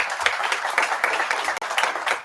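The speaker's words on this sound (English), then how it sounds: "Let's give her a round of applause in her absence." Applause at a board of education meeting honoring an absent teacher, a dense, fairly loud stretch of many people clapping continuously.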